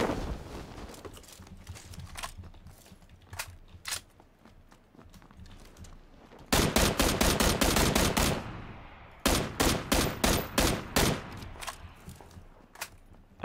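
Suppressive gunfire in the battle-royale game PUBG: an early spread of scattered shots, then two long, loud bursts of rapid automatic fire from about 6.5 to 8.5 seconds and again from 9 to 11 seconds, close by.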